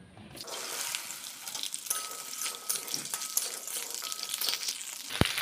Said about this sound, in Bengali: এবার আমরা ওই তেলেই ঢ্যাঁড়সগুলিকে ভেজে নেব।